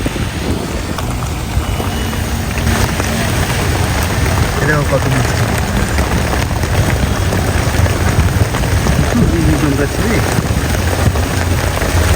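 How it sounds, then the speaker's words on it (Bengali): Heavy rain pours steadily onto a city street in Dhaka, a dense continuous hiss with low rumbling texture, heard from under a rickshaw's tarp cover with faint voices in the background. "বৃষ্টি অনেক জোরে চলে আসছে"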